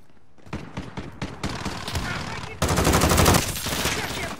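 Gunfire in Modern Warfare, first a run of separate sharp shots spaced about a third of a second apart, then a louder, rapid automatic burst, with voices faintly underneath.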